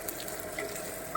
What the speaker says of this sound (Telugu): కొంచెం సేపు అయ్యాక ఇలా ఫ్రై అయ్యింది.